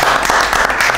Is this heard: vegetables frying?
no